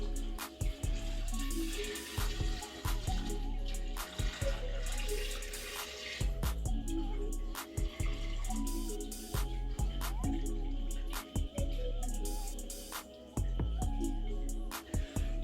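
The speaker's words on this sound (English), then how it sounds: "then you add your hot liquid." Hot liquid pours steadily into a home-brew beer fermenter holding cold water, a continuous splashing gurgle interrupted by a few brief pauses, close and moderately loud.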